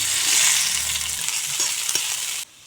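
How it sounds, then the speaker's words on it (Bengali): Chopped onion sizzling in hot oil in a wok, a steady close frying hiss with a few stirring knocks before stopping abruptly, alone without talk. "দিয়ে দিচ্ছি পেঁয়াজ কুচি।"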